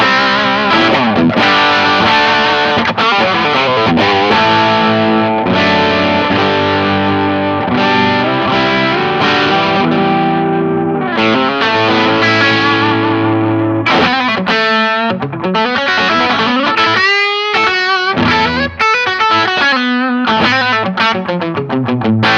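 Electric guitar played through a Strawman overdrive pedal set to its Germanium mode, giving a thick, distorted tone with sustained chords followed by choppier, rhythmic strummed and muted passages, loud and upfront with no talking.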